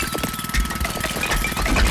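A loud, rapid mechanical hammering pounds away continuously from a video game jackhammer chipping concrete, rattling with a harsh buzzing vibration.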